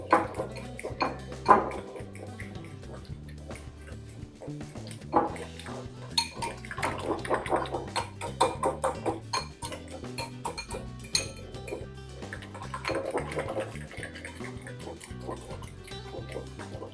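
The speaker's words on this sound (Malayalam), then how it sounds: "ഇനി ഇത് നല്ലതുപോലെ ഒന്ന് മിക്സ് ചെയ്യാം." A spoon clinks and scrapes against a bowl while salt and chopped curry leaves are stirred into an egg mixture. The clatter is close and irregular, with bursts of tapping and a few sharp rings.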